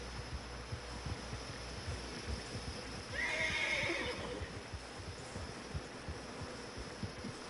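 A horse in the video game Red Dead Redemption 2 lets out a single loud whinny midway, over a steady beat of hoofbeats and a low rumbling background.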